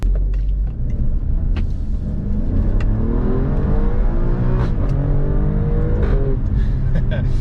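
A 2020 Alfa Romeo Stelvio Quadrifoglio engine in race mode revs hard and accelerates, its pitch climbing steadily with a loud, close rumbling roar.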